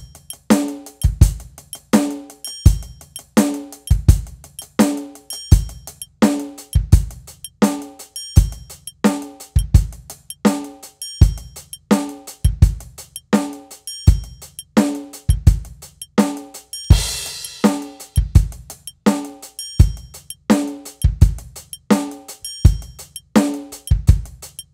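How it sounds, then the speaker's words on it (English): Drum kit hi-hats play a steady 16th-note pattern, with a metronome click landing in the gaps the pattern leaves open. Crisp and close, the pattern repeats evenly throughout. "So now the click will land in that space left open by the hi-hat pattern"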